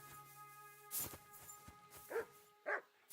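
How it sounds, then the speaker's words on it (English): A puppy hidden in hay gives a few faint, short yips and barks spread apart, over a quiet background with a low steady hum. "What are you barking at, puppy? I can't see you in the hay."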